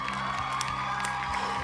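A short burst of crowd cheering and whooping with some clapping during a game show stream, a constant wash of voices.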